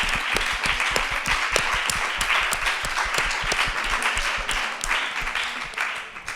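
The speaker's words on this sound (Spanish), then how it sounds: "solo estábamos aplaudiendo a Lidia" Audience applause at a literary event for author Lidia Caro Leal, steady dense clapping from many hands filling the room at a constant level, tapering slightly at the end.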